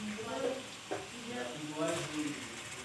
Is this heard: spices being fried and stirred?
yes